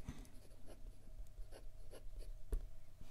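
A Ferris Wheel Press Brush fountain pen with a very stiff nib writes on paper in quiet, close strokes, a faint scratching broken by a few light taps and pauses.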